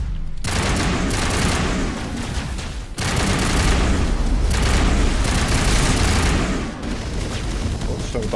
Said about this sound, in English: Good shooting, Ashley.